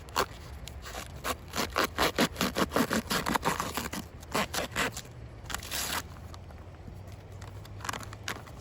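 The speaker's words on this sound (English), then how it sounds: "we'll just cut the side" A bag's side being cut open with scissors while planting in the garden: a run of sharp rhythmic snips and rustling scrapes, dense at first and then sparser, close and moderately loud with no voices.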